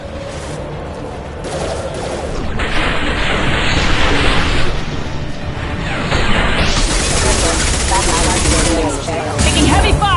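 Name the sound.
heavy gunfire in Mass Effect 2 video game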